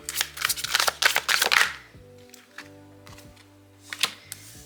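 Tarot cards being shuffled in a crisp, loud burst of riffling, then a pause and a few lighter card snaps and slides as cards are pulled, with a steady low hum underneath.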